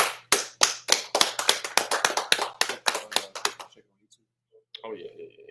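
Roughly twenty sharp hand claps in a steady, fairly quick rhythm at a closing gathering for the Feast of Tabernacles, loud and close, then a pause and faint talk with a low hum underneath.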